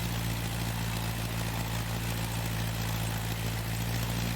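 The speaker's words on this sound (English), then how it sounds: "For like a hot second I forgot how to fly this plane." A propeller plane flies in the racing video game The Crew 2, its engine a steady, even low drone with a constant hum and no other sounds.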